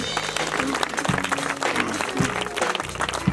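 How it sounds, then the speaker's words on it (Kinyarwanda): Applause from a church congregation fills the clip, a dense, steady clapping that runs throughout with a few louder bursts and no clear voices over it. "Amashyi menshi."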